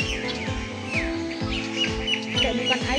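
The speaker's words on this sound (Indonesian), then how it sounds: "Itu ayamnya warna abu-abu, namanya ayam mutiara, guys." Grey guinea fowl calling at a bird park in Palembang, a series of repeated harsh, rhythmic cackling notes close by, with other birds chirping and faint voices in the background.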